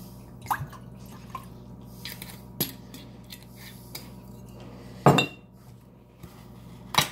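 Worcestershire sauce and balsamic vinegar poured over meat in a dish, heard as soft drips and splashes with a few sharp clinks of a utensil against the container, close and quiet with no talk.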